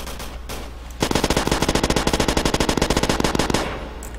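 Rapid automatic gunfire from a gun in the Roblox game Call of Robloxia 5, a steady burst of closely spaced shots lasting a few seconds, loud and alone.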